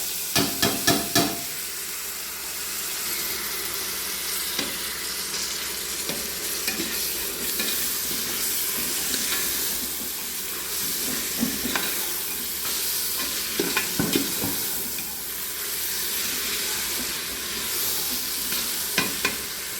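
Chopped tomatoes sauté for a beef biryani, a continuous loud sizzle and hiss in a pan broken by repeated scraping strokes of a spoon stirring, with no voices over it.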